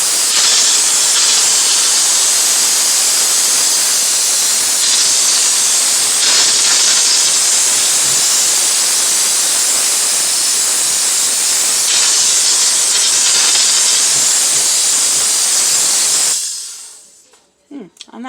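A steam cleaner hisses loudly and continuously while cleaning out a fridge, a steady, close jet of spray that cuts off abruptly near the end, leaving a few faint knocks.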